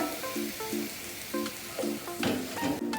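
Chicken sizzling in a hot pan while being stirred, with clinks of a utensil scraping the wok in an uneven rhythm.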